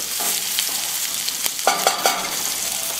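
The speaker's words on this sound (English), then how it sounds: "We're going to let that melt, give the garlic a little bit of color." Garlic sizzles and fries in melting butter in a pan, a steady bright crackle with a few scraping stirs and light clinks partway through, close and alone with no talking.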